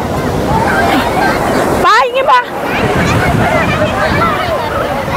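Surf rolls and washes continuously on Alleppey beach, with waves breaking and wind buffeting the microphone, while people talk and shout close by over the crashing water.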